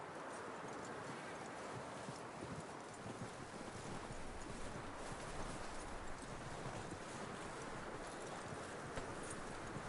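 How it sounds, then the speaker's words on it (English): Horse hooves clip-clop steadily in Red Dead Redemption 2, a continuous rhythmic trot under wind noise, fairly faint and with no talk over it. "That looks like a decent horse. You should keep him."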